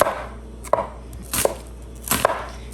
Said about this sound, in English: Instead of slicing them like that, slice them this way.